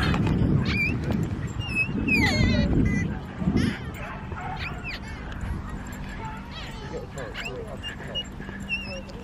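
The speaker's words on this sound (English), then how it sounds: "He's playing with the dogs, isn't he?" Dogs at play outdoors, with yips and barks sounding in short bursts over steady background noise and voices talking nearby.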